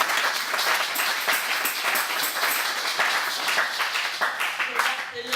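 A church congregation applauds in steady, dense clapping that fills the whole stretch, loud and close, with voices and cheering mixed under the applause.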